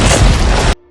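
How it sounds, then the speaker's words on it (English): A loud, close car bomb explosion erupts as one heavy, sustained boom, then cuts off abruptly to near silence. "The car blew up."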